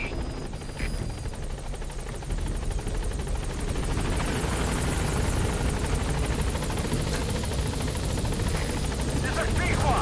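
A Pequod helicopter from the game Metal Gear Solid V arrives at a landing zone, its loud, steady rotor thrum and turbine roar running continuously through the whole stretch, with a radio-style voice speaking over it.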